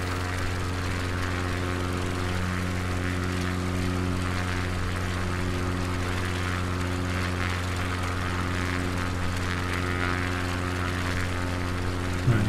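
Propeller aircraft engine in Microsoft Flight Simulator 2020 on a Patagonia bush trip, a continuous loud droning hum with steady harmonic tones throughout and no talking.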